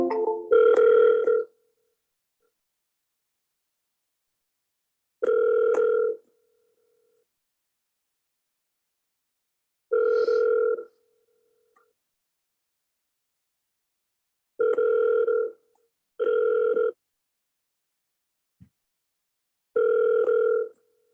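Telephone ringback tone on an outgoing call, five evenly spaced ring bursts about five seconds apart, clear and alone with silence between, the last two closer together.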